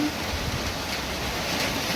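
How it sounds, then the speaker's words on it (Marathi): Heavy monsoon rain falling, a dense, steady hiss of rainfall at constant loudness with no other sounds. "धो धो पाऊस पडते"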